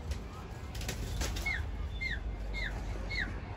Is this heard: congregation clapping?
no